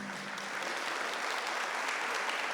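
A church congregation at a Corpus Christi celebration applauds first-time visitors, with steady, dense clapping heard from a distance that swells slightly and continues evenly, without speech over it.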